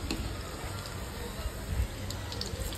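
Cabbage manchurian balls made from rice and poha sizzle in hot oil, a steady close crackle and hiss with small popping bubbles throughout.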